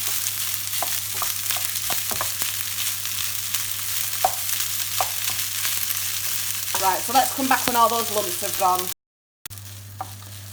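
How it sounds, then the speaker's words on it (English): Rice frying in a pan with soy sauce and a pinch of salt for a Chinese chicken curry, giving a steady sizzle with scattered clinks and stirring scrapes, a voice speaking briefly over it, then a short gap. "the rice is just frying nicely"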